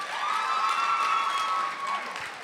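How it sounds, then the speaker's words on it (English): An audience at a youth session applauds, a dense wash of clapping and crowd cheering with a sustained high whistle rising over it, then tapering off. "Let's give a round of applause one more time for everybody who spoke."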